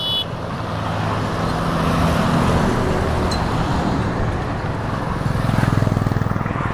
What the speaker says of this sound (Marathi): आता बघा आपला मुंबई गोवा हायवे आणि गाड्या तर चालूच आहे बघा